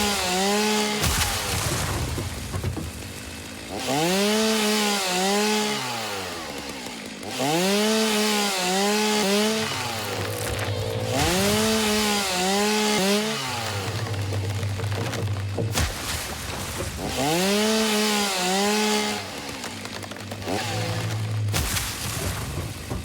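Chainsaw revving and biting into wood in the video game Satisfactory, a rainforest setting, with repeated rising-and-falling engine bursts in several cutting passes, loud and close, and no talk.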